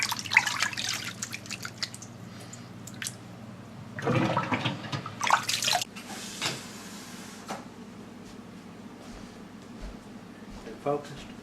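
Tap water splashes and runs while Swiss chard leaves are rinsed, in uneven bursts of spray and trickle with clattering handling, as a person talks nearby.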